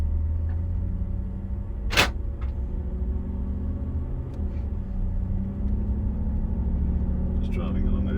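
Cabin drive noise of a 2011 Mercedes G55 AMG cruising normally: a steady low rumble and road hum with a faint whine, plus one brief sharp click.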